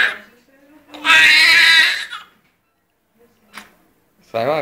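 A newborn baby cries in a hospital with loud, close wails in short bursts and quieter gaps between them, while adults murmur faintly nearby.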